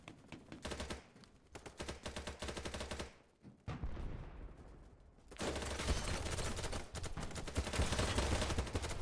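In the shooter game BattleBit Remastered, rapid automatic gunfire rattles in dense bursts, near and loud, with a brief lull before sustained firing resumes.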